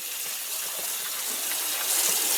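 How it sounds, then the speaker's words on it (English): Steady broadband rush of tap water running over hands at a sink while preparing Fijian kava, continuous and fairly close, growing slightly louder near the end, with no talking. "always wash your hands before making kava"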